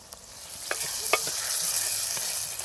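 Chopped onions and tomatoes frying in a pan for a village-style Kongu brinjal gravy, a steady close sizzle with a few soft stirring scrapes and knocks, no talk.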